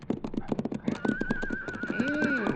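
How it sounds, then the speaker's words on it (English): A horse neighs in a 1950s radio drama sound effect, a loud, wavering whinny that follows a run of quick hoofbeats, heard alone with no talk. "Hey, it's a horse, all right."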